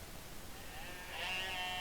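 A sheep bleats in the farming simulation game Farm Expert 2017, a single faint bleat rising near the end over a quiet background.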